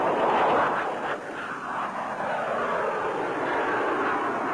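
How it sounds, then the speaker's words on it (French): Dassault Balzac experimental VTOL jet aircraft accelerating, a broad, loud jet roar with sweeping whine bands that swell and then hold steady, no voices over it. "L'avion s'accélère rapidement."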